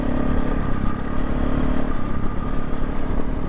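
A KTM 500 EXC-F dirt bike engine runs steadily while riding off-road, a close, loud, continuous buzzing drone with slight rev fluctuations and mechanical clatter throughout.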